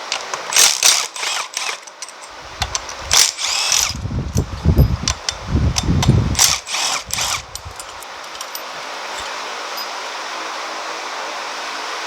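A power tool whirs in short bursts while loosening bolts on the engine of a 2010 Chevrolet Equinox, with ratcheting clicks and metallic clatter between runs, then a quieter steady hum trailing off; no speech.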